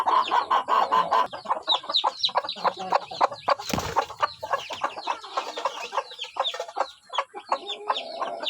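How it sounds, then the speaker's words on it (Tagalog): A mother hen with newly hatched chicks clucks continuously nearby in a brooder cage, with busy overlapping clucks and chirps, and a brief rustling thump partway through. "So ito yung inahin niya."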